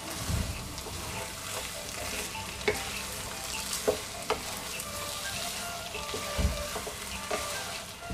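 Chilli ginger chicken with ground fennel being stirred in a pan, a steady soft sizzle of frying underneath with a few sharper scrapes and clinks of the spoon against the pan, close and continuous.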